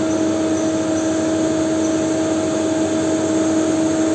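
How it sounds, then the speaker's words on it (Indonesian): CNC lathe spindle running at about 500 rpm: a steady, loud machine drone with constant tonal hums and even noise, unchanging throughout, with no talking. "kemudian spindle, kemudian kita atur potensionya sampai menunjuk angka kira-kira 500 rpm."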